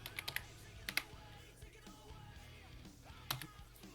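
Command typed on a computer keyboard in MX Linux: quiet, close key clicks in short bursts of several quick taps, a pause, then a final single keystroke.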